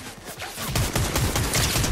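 Enemy team gunfire in the video game Fortnite: dense, rapid bursts of shots overlapping into a continuous volley, loud and close, building in intensity after the first half second.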